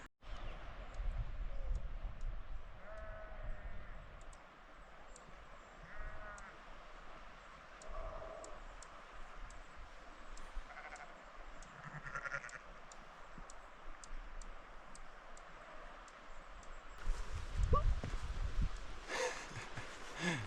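Sheep on a backcountry trail in Newfoundland give several bleats spread across a quiet outdoor scene, some nearer and some farther, with wind and rustling and a louder close disturbance near the end.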